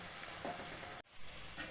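Bitter gourd fries in oil, most of the way browned, with a steady close hiss of sizzling that stays dense throughout, briefly cut by a short drop near the middle before the frying noise resumes.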